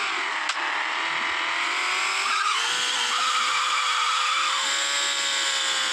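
A car in a Roblox game drifts, its tires skidding with a long, loud, sustained squeal and engine whine that rises and shifts in pitch, a brief click near the start, and no voices.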